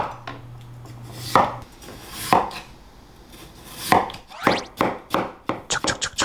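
A knife slices potatoes thin and wide on a cutting board, with a few spaced chops that quicken into a rapid run of sharp taps near the end.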